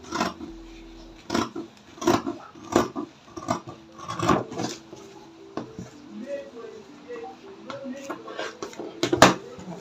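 Scissors cut through fabric for a shoulder bag in a series of close, crisp snips and rustles, uneven in rhythm and moderately loud, with faint handling noise between cuts.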